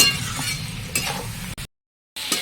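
Spices fry with poppy seed paste in a pan, with soft scraping stirs and a gentle sizzle, then brief silence before the stirring resumes.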